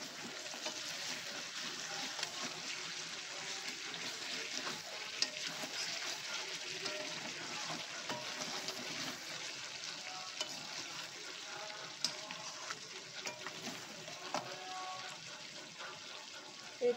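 Biryani gravy sizzling and frying in a pan as it is stirred, a steady close crackle running throughout with occasional louder scrapes and clinks from stirring.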